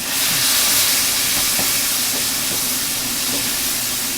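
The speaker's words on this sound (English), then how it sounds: "now let's put in our garlic. And we saute this" Garlic sautés in a hot pan for chicken Florentine with a loud, steady, broadband sizzling hiss, close and continuous, with faint soft ticks under it.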